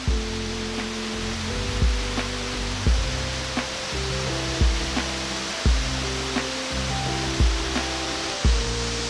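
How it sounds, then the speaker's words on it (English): A hiking-trail waterfall gives a continuous broadband rush, steady and fairly full, while rhythmic musical notes play over it throughout. "We made it to the waterfall."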